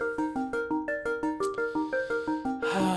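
A bubbly Elektron Digitone 2 synthesizer sequence percolates in quick, even repeating notes with a rhythmic pulse, ending in a noisy swell.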